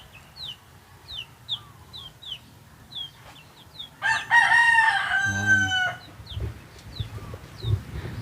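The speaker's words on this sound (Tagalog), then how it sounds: "Yan ang mga bago kong sisiw no, na manok." Native chickens and young chicks cluck and peep in repeated short calls, with a louder burst of squawking clucks in the middle, fairly close against quiet surroundings.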